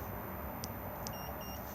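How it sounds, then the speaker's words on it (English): Two short, faint high beeps from a Swift Conqueror 570 caravan alarm key fob disarming, in quick succession over a steady low background hum, followed by a few thin, soft electronic tones. "2 beeps disarmed."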